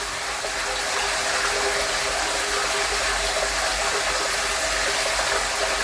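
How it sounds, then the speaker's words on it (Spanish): A half-horsepower jet-type water pump under pressure control drives a strong, steady gushing flow of water, a loud continuous hiss and rush with a low hum beneath, close by and without talk. "Observen la presión de agua que está mandando nuestra bomba"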